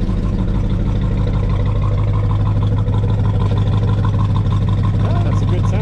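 A 1969 Chevelle SS V8 rumbles steadily just after a cold start, a loud, close, continuous low idle with some voices over it.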